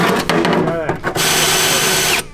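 A power drill bores a hole, apparently with a hole saw bit, during a wheelbarrow build: brief voices and clatter, then a loud, steady grinding whir for about a second before it cuts off.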